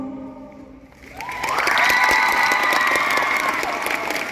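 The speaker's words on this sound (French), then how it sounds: "On applaudit bien fort Angel Dust." A Japan Expo 2024 cosplay contest crowd bursts into applause and cheering for an Angel Dust cosplayer as the music fades, clapping swelling after a second and holding strong with shouts mixed in.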